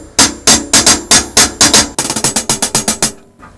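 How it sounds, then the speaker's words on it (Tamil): Closed hi-hat cymbals on a drum kit, struck in a steady run of short, crisp ticks, first about eight spaced hits and then a quicker, denser series, close and alone with no talk. "ஹைஹட் க்ளோஸ் பண்ணி வாசிக்கிறது,"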